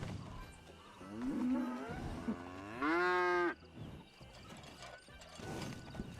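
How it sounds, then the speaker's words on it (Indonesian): Cattle low in a couple of long, drawn-out moos, one louder and nearer, with clattering and mechanical knocking around them. "Walaupun cuma suara sapi aja."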